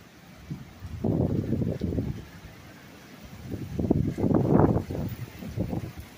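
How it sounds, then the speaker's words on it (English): Strong wind gusting during a heavy rainstorm, roaring in two long surges against the microphone with a lull between, loud and close, no speech. "How hard the wind's blowing."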